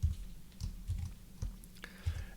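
Quick bursts of keystrokes on a computer keyboard while entering SQL table names, a few separated clicks and short clusters, close and fairly quiet, with no voice over them.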